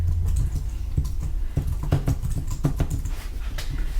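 Someone typing on a computer keyboard, a loose run of close clicking keystrokes at an uneven pace over a steady background hum.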